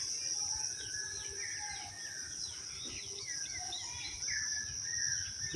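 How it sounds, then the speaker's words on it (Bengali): Birds call faintly overhead in a village in Muladi, Barishal, Bangladesh. Scattered chirps and short whistles rise over a low hum of insects in quiet early-morning air. "উপরে পাখি চিল্লাতেছে।"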